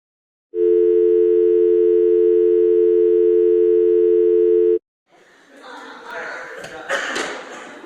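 A steady telephone dial tone on a call, a loud unbroken hum for about four seconds, then cut off and followed by muffled background chatter of a group of people.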